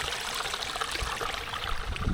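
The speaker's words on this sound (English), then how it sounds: "We got a little waterfall for our water source today." A small waterfall serving as a water source on the Appalachian Trail near the Pennsylvania–Maryland border gives off a soft, steady rush and trickle of water, faint and continuous with no voices.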